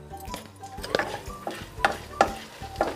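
Whole spices (three white cardamom pods, three cloves, some black peppercorns and half a spoon of cumin seeds) frying in oil, a soft sizzle broken by several sharp scraping stirs and clinks close by, with no voices.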